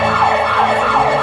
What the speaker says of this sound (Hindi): क्या वो सायरन है?